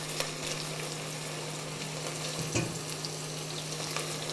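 Chopped onion sizzles steadily in a pan while being stirred constantly, the start of a beef tasqebap stew; a continuous close frying hiss with scattered light stirring clicks and one louder scrape near the middle, no talking.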